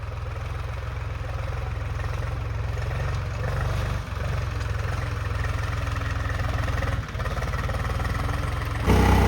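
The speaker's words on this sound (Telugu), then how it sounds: "చాలా రోజుల తర్వాత అయితే నేనైతే ట్రాక్టర్ అయితే డ్రైవ్ చేస్తున్నా" A tractor engine idles steadily and close by, a loud, even low rumble with a brief dip partway through and a louder burst at the very end.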